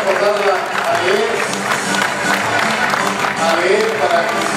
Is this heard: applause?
yes